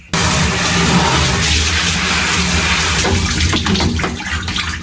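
Water poured over the head during hair washing, a loud, close, continuous splashing gush that starts abruptly and runs for several seconds.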